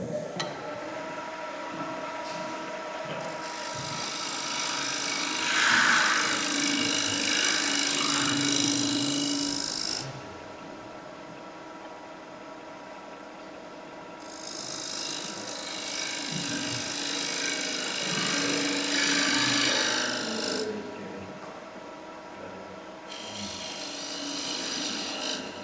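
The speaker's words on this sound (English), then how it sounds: "just lay the skew flat to create our tenon" A skew chisel laid flat cuts a tenon on spinning wood on a lathe at a wood turners' club meeting, giving a steady close scraping rasp in two long passes over a constant motor hum, with no talk.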